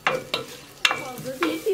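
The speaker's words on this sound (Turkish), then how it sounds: "Soğanlar pembeleşene kadar kavuruyorum." Chopped onions sizzle and crackle in hot oil in a pan, stirred in short bursts of scraping and clatter, loud and close with no talk.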